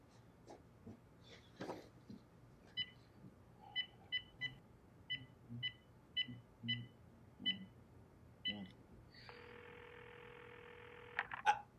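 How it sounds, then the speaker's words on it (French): A landline telephone dials out: a run of evenly spaced keypad beeps, then a steady dial or ringing tone near the end, all fairly faint in a quiet apartment. "Faut que j'appelle mon père."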